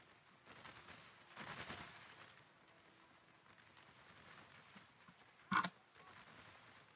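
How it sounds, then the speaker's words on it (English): Howitzer artillery fire in an American Civil War strategy game, distant muffled booms followed by one sharp, louder blast, heard alone without talk. "Howitzers close range and on the hill. Just lobbing shots into this valley."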